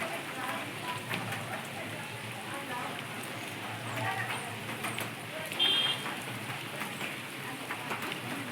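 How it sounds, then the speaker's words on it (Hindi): Rain falls steadily on a rooftop, a dense continuous patter of drops heard up close, with a brief sharper tone partway through. "आज तो हमारे यहाँ बिल्कुल दिन भर से ही बारिश हो रही थी।"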